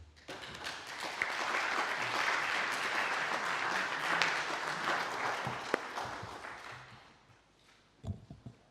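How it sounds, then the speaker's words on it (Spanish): An audience at a literary event honoring Salvador Espriu gives sustained welcoming applause that swells, holds steady for several seconds, then fades out, followed by a few faint knocks. "Solo les voy a pedir un aplauso de bienvenida."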